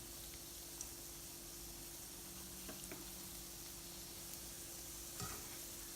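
Dahi barhe, lentil fritters, sizzle steadily in hot oil, a soft, even crackle with a few small pops, fairly quiet and close, with no voices.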